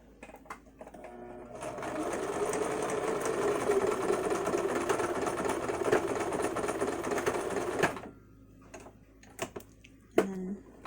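Sewing machine stitching fabric for a homemade face mask runs steadily for about six seconds with a fast mechanical whir, close and fairly loud, then stops and is followed by a few handling clicks and taps.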